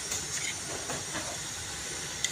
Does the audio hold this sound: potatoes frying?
yes